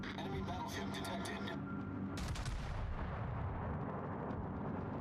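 Battleship main guns firing in the naval combat game World of Warships, heavy booming salvos with sharp cracks, continuous rumbling blasts and reverberation that fill the whole stretch.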